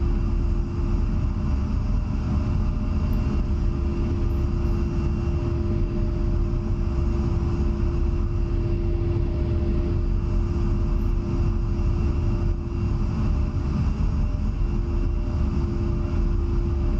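A heavily loaded MiG-29 jet taking off with flaps down in the DCS flight simulator, heard as an unbroken roar with a steady whine running through it, even and close from start to finish.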